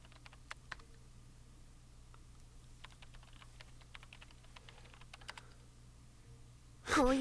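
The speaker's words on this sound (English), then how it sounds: "she began typing on the keyboard with an angry expression" Keyboard typing from the visual novel game Chaos Head Noah: scattered light key clicks in irregular bursts over a low steady hum, quiet and close, ending in a sudden louder burst.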